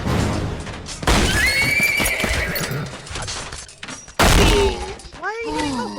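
A horse in a video game whinnying after being struck, loud neighing with thuds and clip-clop of hooves, with people talking over it.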